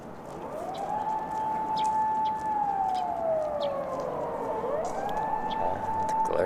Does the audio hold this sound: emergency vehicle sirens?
yes